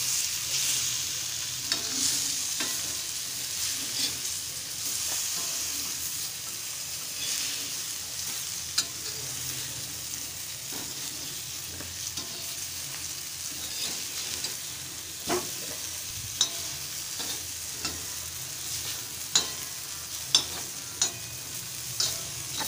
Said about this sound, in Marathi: टोकीची मच्छी आता फ्राय करायला ठेवलेली आहे